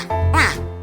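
In a children's song about five little ducks, a voice imitates a mother duck with a single loud, nasal quack sung close over a steady musical backing.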